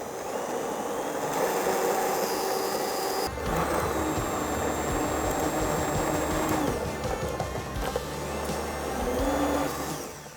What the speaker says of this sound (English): Now let's blend this up.